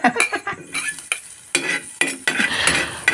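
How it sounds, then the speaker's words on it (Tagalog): Onions hit hot oil for sardines, sputtering in bursts as a spoon stirs and clinks against the pan, growing into a fuller sizzle toward the end. "mainit na siya. Lagyan na natin tong sibuyas."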